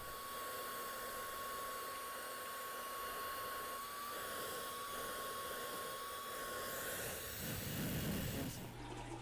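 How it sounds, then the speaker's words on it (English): A shop vac runs steadily while vacuuming water from an aquarium in a fish room, a faint continuous whine and rush with a gurgling slurp of water near the end. "I got a shop vac."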